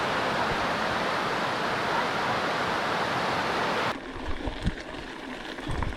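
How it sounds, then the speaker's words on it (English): A waterfall at the end of the Hilltop Trail off Lake Imogene Road in Brevard roars as steady broadband rushing water, then the rush cuts away to quieter surroundings with faint knocks. "Beautiful waterfall."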